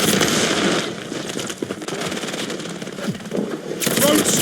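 Video game gunfire rattles in dense, fast bursts throughout, with brief loud peaks near the end, over a busy mix of explosions and battlefield noise.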